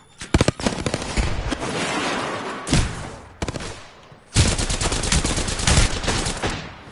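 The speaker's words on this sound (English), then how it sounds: "Look out, grenade. Frag out." Explosions from thrown grenades and an electric arc star mixed with rapid gunfire in a shooter video game, loud and dense with repeated sharp bursts, a brief lull, then another heavy barrage.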